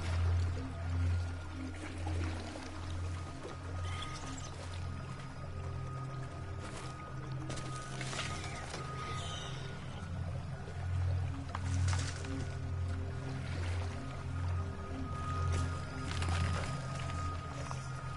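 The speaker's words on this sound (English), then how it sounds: "I guess the river is carrying the ball along." Steady flowing river water in The Unfinished Swan, a continuous low rushing wash with faint splashy detail running evenly throughout, with no talk over it.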